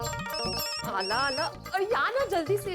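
A telephone rings in a domestic comedy scene, its repeating electronic ringtone with steady pulsed tones running throughout while people talk over it.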